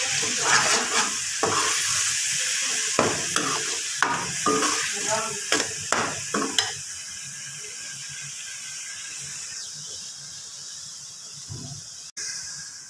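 Potatoes fry in a hot pan with cumin, red chilli, coriander, turmeric and salt, giving a steady close sizzle with repeated stirring scrapes over the first half, then the sizzle continues alone and evens out.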